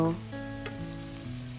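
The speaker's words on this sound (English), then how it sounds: "we're going to saute this for a while" Chopped chicken, carrots and green vegetables sauté in a pan for coconut fried rice, giving a steady close sizzle with faint stirring clinks over a low hum.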